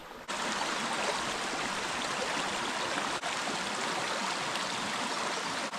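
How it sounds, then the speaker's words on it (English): A steady rush of flowing stream water, with a water bottle being filled, fills the scene, constant and close with no voices. "I'm gonna go ahead and fill up my water here."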